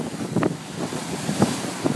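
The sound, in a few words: wind at sea on a sailing boat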